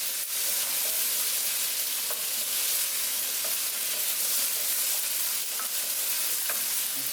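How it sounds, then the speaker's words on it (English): Vegetables with frozen spinach frying in olive oil and spices in a pan for a summer pasta stir-fry, a steady close sizzle with occasional stirring clinks and scrapes throughout, no talking. "once I stir these around a little bit, get them really frying"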